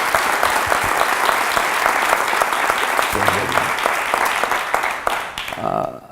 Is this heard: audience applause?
yes